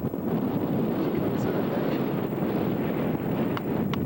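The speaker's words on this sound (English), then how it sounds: "It's a windy day today." Steady, loud wind buffeting the microphone throughout, a constant low roar with no pauses.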